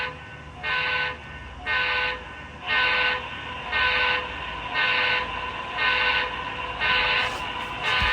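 An HO scale model train powered by an old Tyco transformer runs on its track, giving close, loud pulsing tones that repeat evenly about once a second over a steady mechanical hum, with no talking.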